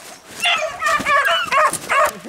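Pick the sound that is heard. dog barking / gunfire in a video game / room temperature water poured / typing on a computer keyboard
dog barking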